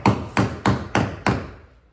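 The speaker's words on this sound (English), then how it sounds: "it's a reverse routine again of the hammer and dolly and just gently tapping it back in" Hammer and dolly gently tapping a car body panel: five evenly spaced, close metallic taps with short ringing decay, the last one fading out.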